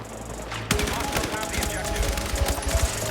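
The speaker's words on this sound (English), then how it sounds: "Oh, he's using the shotgun now." Heavy gunfire in the video game Battlefield 6, including shotgun blasts, erupts loudly after a short quiet lead-in and continues as rapid, rolling shots close by.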